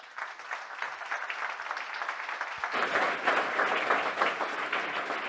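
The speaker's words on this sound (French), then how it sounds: "Merci d'accueillir avec vos applaudissements Monsieur Pascal Boniface." Audience applause at a closing-night evening of an international week event in Nantes, welcoming a guest speaker; steady clapping that swells louder about halfway through and keeps going.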